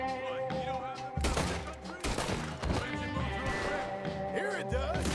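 Several bursts of gunfire ring out in a Red Dead Redemption 2 shootout, with sharp cracks standing out over game music and other in-game sounds, and voices heard alongside.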